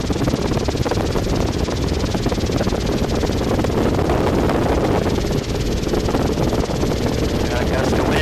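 Gusty wind buffets an R22 training helicopter, a loud, dense roar of rotor and engine with heavy wind rumble on the microphone, sustained throughout the hover.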